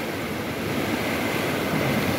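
Floodwater rushes in a strong current during a flood near Sunamganj, a loud, steady broadband roar with no pauses, close and continuous.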